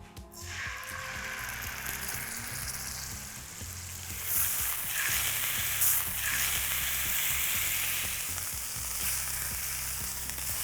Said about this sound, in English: we're going to pop it into a pan that's nice and hot, and we're going to sear the steak on all sides.